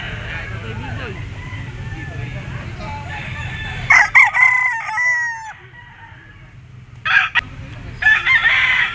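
A three-year-old Leiper Hatch gamecock crows loudly and close, with two distinct crows standing out over market chatter. Other roosters call in the background, and people talk throughout.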